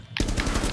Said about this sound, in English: I fucking shot him